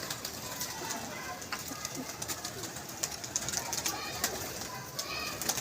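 A pigeon from a pigeon club coos at close range among other bird sounds, with soft flapping, while someone talks over it.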